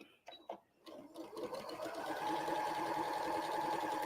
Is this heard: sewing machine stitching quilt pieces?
yes